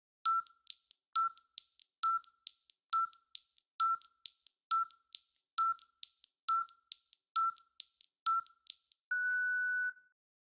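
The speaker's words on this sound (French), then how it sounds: "J'entends le signal sonore de ce passage à niveau." A level crossing warning signal sounds as a bright electronic ring, with about ten quick evenly spaced double chirps and then one longer steady tone, clear and isolated.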